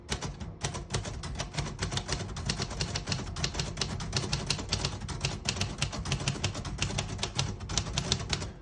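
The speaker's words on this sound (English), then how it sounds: "Beautiful typing machine." Rapid, steady keystrokes on a 1936 Royal Model O portable typewriter clatter without pause, a dense mechanical tapping with occasional heavier strikes, close and fairly loud.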